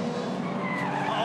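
A Holden HQ race car spins at Symmons Plains, its tires skidding in a steady, close screeching howl under continuous broadband race noise.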